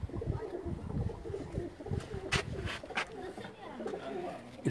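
A pigeon given as a gift coos close at hand, soft repeated calls under someone talking, with handling noise and a few sharper bright sounds.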